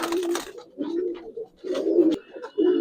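Giribaz and Army pigeons coo in low, repeated rolling phrases, several bursts close by with short pauses between them, a brief sharp click near the end.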